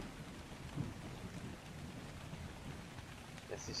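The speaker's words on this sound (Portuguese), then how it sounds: "Nossa, tá chovendo forte, hein?" Steady, fairly faint downpour of heavy rain from the video game ARK Survival Ragnarok, a continuous even hiss of falling water with no other sounds standing out.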